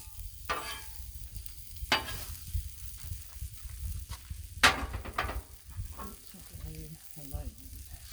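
Eggs and pancakes fry on a griddle turned down low, giving a soft, steady sizzle with occasional scraping and stirring noises and a brief voice near the end.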